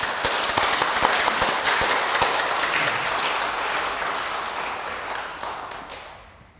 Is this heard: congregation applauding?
yes